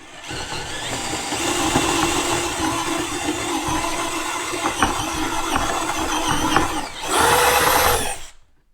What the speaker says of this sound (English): Drill the new painted part.